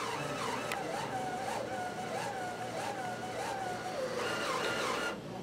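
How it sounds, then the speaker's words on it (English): A Viper2 printer runs its nozzle-check test print, giving a steady mechanical whir with a repeating rising-and-falling motor whine about once a second as the carriage moves back and forth, close and fairly loud, ending abruptly. "We'll let it do its little test print."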